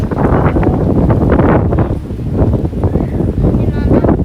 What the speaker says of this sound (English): Getting a little breezy through here.